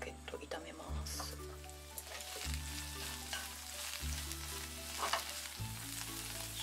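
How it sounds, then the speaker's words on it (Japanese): Wild rocket stir-fries in a pan, giving a steady close sizzle with scraping stirs, and a low tonal hum runs underneath throughout. "取ってきたロケット、野生のロケット、炒めます。"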